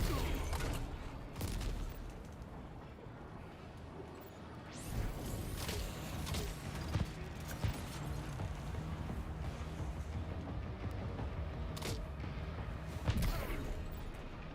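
Grenade launcher fire in Death Stranding 2, a series of separate thumping blasts and crashing impacts spaced out over several seconds, fairly quiet overall amid faint mechanical rattles.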